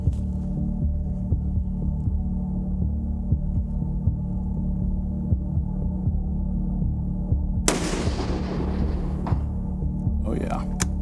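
A single rifle shot fired at a steel target 450 yards away, a sharp loud crack late in the clip after a steady low hum, followed by a faint ringing echo.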